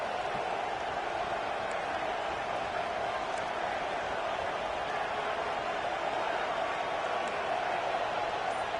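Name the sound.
stadium crowd cheering in a football video game (CFB26)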